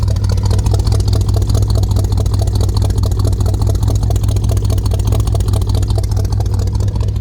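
A Chevrolet Suburban's 353 V8 with dual exhaust, no H-pipe or X-pipe, idles with a deep, steady engine rumble and a low throbbing burble, constant loudness throughout, no voices present.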